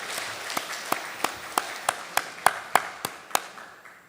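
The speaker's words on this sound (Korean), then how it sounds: "하나님께 영광의 박수를." A church congregation claps in time, with a steady series of sharp, evenly spaced claps that swell slightly before trailing off, heard alone in a resonant room.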